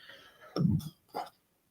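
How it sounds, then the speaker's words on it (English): A live weather presenter burps on air, one short throaty belch followed by a smaller second gulp, close and fairly soft in an otherwise quiet studio. "There was that burp I was waiting for."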